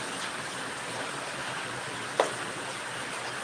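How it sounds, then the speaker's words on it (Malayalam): Steady rain hisses softly and evenly throughout, with a single brief click partway through. "മഴയാണ് മഴ മഴ"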